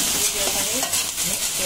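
Cleaned prawns coated in ginger-garlic paste drop into a hot pan for kolambi bhaat and sizzle loudly and steadily, with bursts of hiss and spatter in a brief, close burst.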